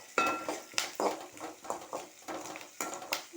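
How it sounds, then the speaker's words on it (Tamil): Onions being sautéed in a pan, with a spatula clattering and scraping against metal in quick irregular strokes and a faint sizzle underneath, close and fairly quiet. "வெங்காயம் நல்லா வதங்கணும். நல்லா வெங்காயம் வதங்கணும்."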